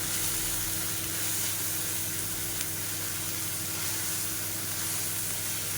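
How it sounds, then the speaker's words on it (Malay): Blended chili and onion paste sautéing in hot oil in a home kitchen, a steady, dense sizzle and hiss that holds evenly for several seconds with no talking over it. "Tumis bahan kisar kita ni sampailah layu terkulai, hilanglah bau bawang mentah tu"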